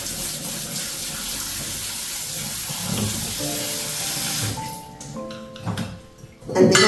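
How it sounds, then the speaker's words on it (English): Tap water runs steadily over sprouted buckwheat seeds in a kitchen sink for a quick rinse, a continuous close hiss that thins out near the end as the flow is cut and the bowl shifts. "I normally use municipality water first because it's just a quick rinse."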